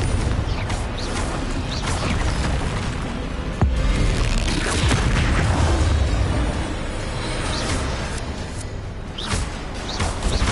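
Confringo explosive spell cast in Hogwarts Legacy, booming blasts and crashing impacts over a busy mechanical, creaking din, loud and continuous with a sharp hit partway through.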